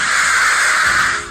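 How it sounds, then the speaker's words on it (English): Loud crows cawing together in downtown Portland, Oregon, a dense, continuous chorus of harsh calls close by with no talking. "Look at all these birds."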